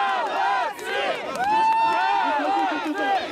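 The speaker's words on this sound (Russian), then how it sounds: "ликование болельщиков" A crowd of fans cheers and shouts in a loud, sustained roar as three strongmen set a world record pulling the sailing ship Sedov, with rising whoops and yells overlapping throughout.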